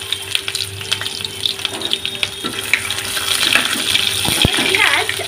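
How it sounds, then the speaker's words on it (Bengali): Chopped garlic and onion frying in hot oil in a home kitchen for fish spring rolls: a steady loud sizzle with occasional stirring scrapes, building slightly toward the end. "পেঁয়াজ আর রসুনটা ভাজা হয়ে গেছে"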